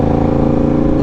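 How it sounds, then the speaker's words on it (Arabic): Motorcycle engine running steadily while being ridden on a trip, a constant low harmonic drone with no talking, close and fairly loud throughout. "توحش هذا الموتور، لحقاش بزاف هذه ما خرجتش"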